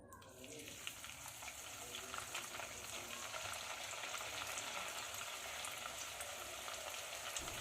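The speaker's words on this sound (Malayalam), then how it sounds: "നല്ലൊരു ഗോൾഡൻ ബ്രൗൺ നിറമാവുന്നത് വരെ നമുക്ക് പൊരിച്ചെടുക്കാം" Macaroni frying in hot oil until golden brown, a dense, continuous sizzle with crackling bubbles that starts as the pasta goes in and stays steady throughout.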